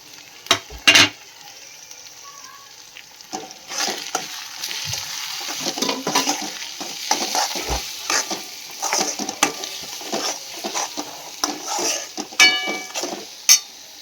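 Ground spices and homemade masala go in with fried onion and tomato for a spicy prawn and potato gravy, giving a soft sizzle under repeated scraping and stirring taps of a spoon against the pan, with a few sharp clinks.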